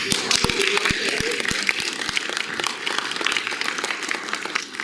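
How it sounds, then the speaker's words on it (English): Applause rises at a school district board meeting after a motion carries, a room of people clapping steadily with a few sharp individual claps standing out near the start and some faint murmuring underneath. "A round of applause."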